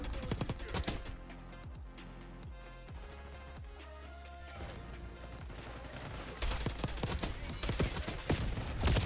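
Gunfire in the first-person shooter Call of Duty Black Ops 6 during a multiplayer beta match, with rapid bursts and single shots crackling at moderate level throughout, denser toward the end, with faint game ambience between.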